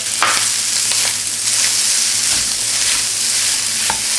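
Loud, dense sizzling of pad thai with shrimp, pork and egg stir-fried with green onions in a hot pan, a constant frying hiss broken by repeated clanks and scrapes of the utensil tossing the noodles, with no talking.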